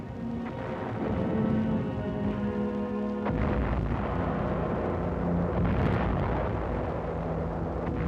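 Mortar shells striking an ammunition dump on Angaur, Palau, in 1945: heavy, continuous rumbling blasts and booms fill the whole clip, loud and dense, with a sharper burst near the middle and no talk.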